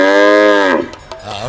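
A performer at a devotional folk music event vocally imitates the call of a male buffalo: one loud, drawn-out bellowing moo that fades into room noise.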